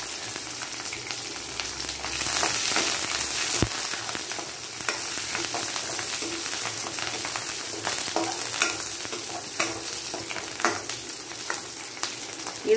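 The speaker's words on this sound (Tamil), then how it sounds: "கருவேப்பிலை இதை போட்டு வதக்கிடலாம்." Onion, green chilli and curry leaves sauté in hot oil for avial, a steady close sizzle with occasional stirring clicks and scrapes throughout, no voices.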